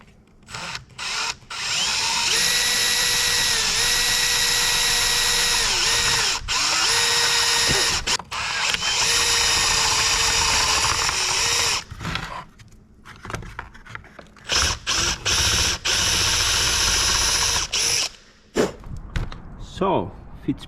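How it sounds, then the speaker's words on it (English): A power drill bores into plastic while a Cusco tow hook is fitted to a Toyota GR Yaris, whining in a long sustained run and then several shorter bursts, close and loud, with some rattling between. "So second one, we will just drill it."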